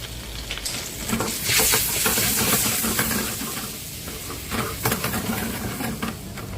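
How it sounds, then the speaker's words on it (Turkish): Turkish ezogelin soup with butter, red pepper and mint bubbling in a pot, giving a steady sizzling, hissing bubble that stays fairly close and even throughout, with no talking. "Çorbayı kaynamaya aldım."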